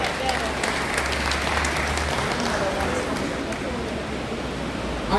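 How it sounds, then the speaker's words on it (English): Sustained audience applause at a cancer society annual general meeting fills the room, a dense steady wash of clapping lasting several seconds with a low hum underneath. "a round of applause again for this speaker"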